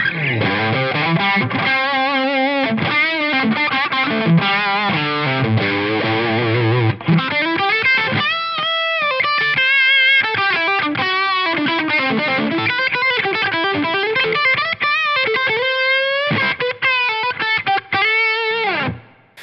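Heavily distorted electric guitar through a Line 6 Helix amp modeler and Power Cab, Cali Texas model, heard via mic signal, plays continuous fast lead lines with bends and sustained notes, gritty and loud, with no talking.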